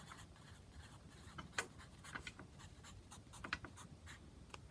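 Hand-writing a date and lesson number with a marker: soft, scratchy strokes in short bursts with a few sharper taps, faint and close, with no talking.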